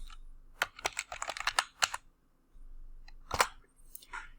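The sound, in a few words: typing on a computer keyboard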